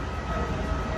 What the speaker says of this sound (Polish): Chcę nagrać pociąg z boku